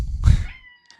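A cat gives a short, fairly close meow that fades quickly, followed by a faint chirp, with no talk around it.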